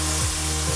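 Chicken pieces just flipped in a pan sizzle and fry steadily, with a brief scraping stir partway through. The sound is close and continuous, with no talking.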